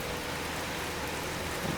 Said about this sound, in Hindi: और ये देखें अभी भी बहुत ज़्यादा बारिश है, बहुत ज़्यादा।